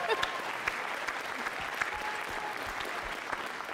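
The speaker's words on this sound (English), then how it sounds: "You can applaud" Audience applause for Medic One, the Seattle emergency service, as a crowd claps steadily and densely for several seconds at an even level, with a voice faintly rising at the start.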